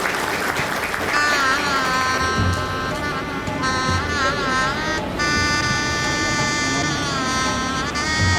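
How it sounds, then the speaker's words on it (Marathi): Sustained applause welcoming dignitaries at a Sant Rohidas Jayanti gathering, loud and continuous throughout, with a steady tonal hum or drone layered over the clapping. "सर्व मान्यवरांचं आपण एकदा जोरदार टाळ्या वाजवून स्वागत करूया."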